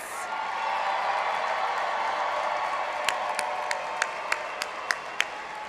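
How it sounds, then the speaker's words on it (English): Crowd applause for graduates at a university commencement ceremony, a broad sustained wash of clapping in a large space, with a few louder individual claps popping out near the end. "let's get one more round of applause for all of our graduates"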